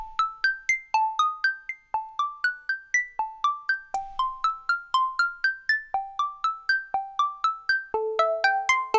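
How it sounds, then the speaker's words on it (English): Dave Smith Tetra analog synth running an arpeggiator: a steady, quick stream of bright plucked notes stepping up in repeating patterns, moderately loud and alone with no voices. "I threw an arpeggiator on it, and then just recorded the output of the Tetra onto the track"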